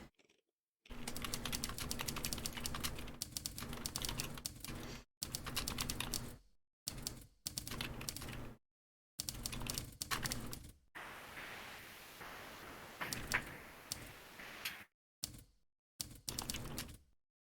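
Rapid clicky typing on a keyboard in bursts separated by short silences, close and fairly loud, with dense clattering keystrokes.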